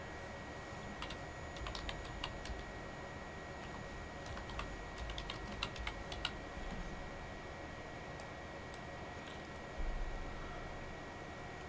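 Light typing on a computer keyboard during a Microsoft OneDrive tutorial, with scattered quiet key clicks in short bursts over a faint steady hum.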